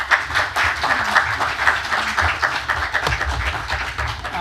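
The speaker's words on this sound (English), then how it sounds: "Let's give a warm applause to Professor Yaqoob Magdi, please." Audience at a medical conference in London claps warmly, a dense, sustained round of applause from many hands at a steady level for several seconds.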